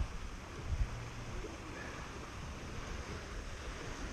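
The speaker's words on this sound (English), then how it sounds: "we got a little more wind than what I wanted" Steady wind rushes across an open outdoor spot and buffets the microphone, a continuous broadband roar with low rumbling gusts and a brief stronger thump near the start, with no voices.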